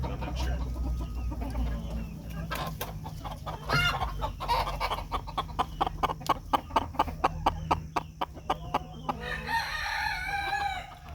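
Silkie chickens clucking and squawking nearby, with a rooster crowing and a rapid run of loud, evenly spaced clucks building in the middle.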